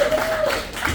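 An audience at a poetry slam in Gainesville, Florida, applauds in a brief, dense burst of clapping, with a voice faintly audible over the crowd.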